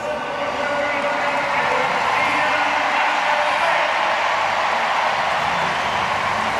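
Jamaican supporters in a packed athletics stadium before a women's 100m race, a dense, steady roar of cheering and whooping crowd noise that holds loud and unbroken throughout.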